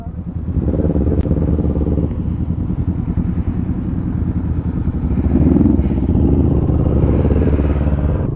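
Several big motorcycles idling and rumbling close by in a parking area in Clark, Pampanga, a loud continuous low engine drone that swells slightly near the end, with no talk.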